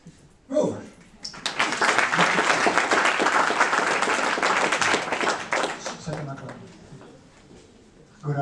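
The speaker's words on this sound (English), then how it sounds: "Ladies and gentlemen, a warm applause for this man, Joop" Warm applause from a conference audience greets a speaker as he is introduced, a dense wash of clapping that swells quickly, holds steady for several seconds, then thins out before a voice begins.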